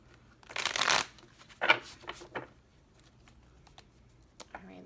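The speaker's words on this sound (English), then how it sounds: "it's a new deck and it's kind of heavy, so it's a little difficult to shuffle" Cards from a new, heavy tarot deck being shuffled, with two loud riffling bursts up close followed by lighter scattered flicks and taps.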